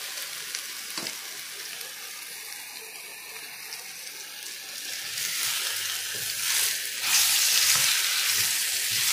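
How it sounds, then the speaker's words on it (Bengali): Raw mango pieces frying in mustard-style oil with bay leaf for pickle, a hissing sizzle that swells louder toward the end as the pieces are stirred, with bubbling, watery spatters. "এবার এটা একটু ভাজা ভাজা করব।"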